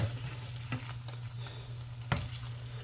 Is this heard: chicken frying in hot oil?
yes